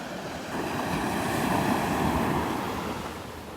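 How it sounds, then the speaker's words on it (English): Small ocean waves washing onto Vanderbilt Beach, a soft steady surge that swells and recedes, with light wind noise and no voices. "I mean, these are nice little waves"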